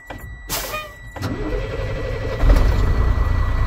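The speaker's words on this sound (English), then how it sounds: "so now I can properly turn the truck on" A Class A truck engine starts up: a short starter whine gives way to the engine catching and settling into a steady, loud idle rumble nearby.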